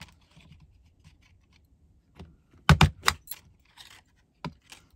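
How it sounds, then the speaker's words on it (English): A paper punch stamps a heart shape out of scrap paper: after quiet rustling, a sharp cluster of loud, close clicks and crunches, then a smaller click a moment later. "now I'm just gonna punch out a heart"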